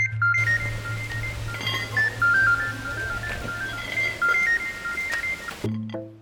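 Telephone dialing tones from a phone in an Indonesian drama film: a run of short beeping tones at a moderate level, with a brief tonal chirp at the end and no talk.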